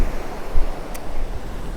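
Ocean waves breaking on a shore during an outdoor walk, a continuous rumbling wash of surf mixed with wind, steady and fairly loud with no talking.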